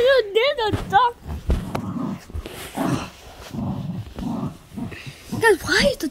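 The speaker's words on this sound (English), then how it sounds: "No, there's a dog." A dog hidden under a blanket whines and grumbles in rising, wavering cries at the start and end, with low rumbling growls between, while a person talks excitedly throughout.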